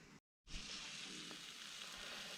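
Food sizzles and fries steadily in a pan at camp, a continuous loud crackling hiss that drops out for a brief moment near the start and then carries on.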